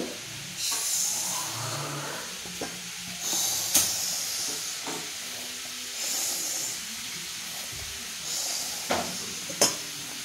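Mixed vegetables for a Bengali pach torkari sizzle and hiss steadily in hot oil, a continuous frying crackle with a few sharper clinks and stirring knocks, close by and without talk.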